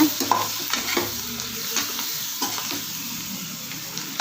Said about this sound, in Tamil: நல்லா இந்த ஸ்டேஜ் அளவுக்கு நல்லா ஃப்ரை பண்ணிக்கோங்க